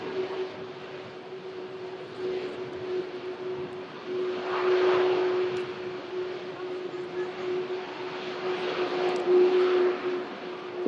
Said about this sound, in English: Turkish Airlines flight we've had today from Istanbul, operated this time by one of our larger wide-body aircraft, the Airbus A350-300